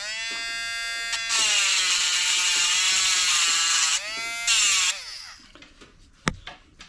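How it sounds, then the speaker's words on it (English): An electric engraver buzzes against a valve taken from an MG cylinder head, a loud steady vibrating drone with pitch wobbling as it works, stopping near the end before a single sharp knock. "So I go over and engrave the valve with my engraver."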